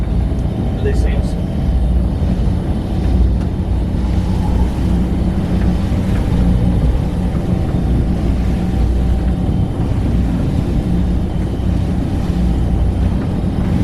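Boat engine on the Mirage running steadily at speed during a sea trial, about 1800 RPM at 12.4 knots, a loud continuous low drone with wind and water rush throughout.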